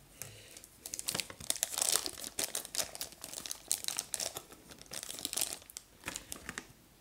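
A plastic blind bag packet crinkles and crackles steadily for several seconds as it is handled and opened, with close, busy bursts of rustling and no voices.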